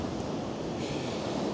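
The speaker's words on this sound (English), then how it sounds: "it's some nice white waves out on the distance" Waves break on the sea near St Ives, Cornwall, a continuous rushing wash of surf mixed with gusty wind buffeting the microphone, with no voices.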